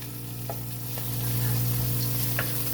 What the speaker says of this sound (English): I know you can hear the sizzling, the crackling of the oil.